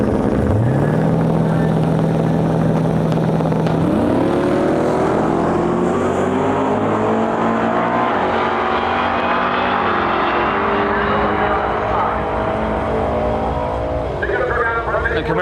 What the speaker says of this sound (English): Looks like it's like split bumper Camaro pulling up.